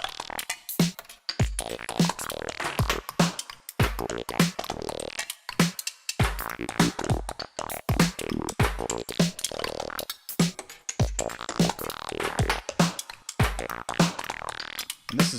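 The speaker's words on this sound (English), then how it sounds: "I grabbed a saw wave. That's it. Saw wave, pitch it down 12 steps," Synthesizer saw wave lead pitched down an octave with a wide random wobble LFO, repeating gritty buzzy phrases in a choppy rhythm with short gaps, loud and alone.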